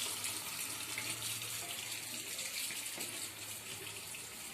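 Low water flow trickling through the tank of a Titan water heater under diagnosis and repair, a steady, even hiss and rush of water with no speech.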